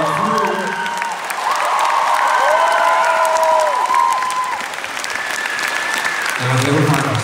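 A large concert crowd at TivoliVredenburg, Utrecht, applauds and cheers continuously, loud and dense, with voices shouting and whooping over the clapping throughout.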